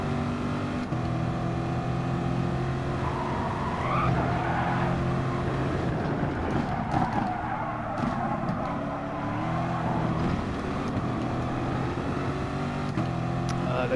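Corvette C7 Gr.3 race car in Gran Turismo Sport at Dragon Trail, engine droning continuously up close while the tyres scrub through a slightly understeering corner, revs dipping and rising in steady waves.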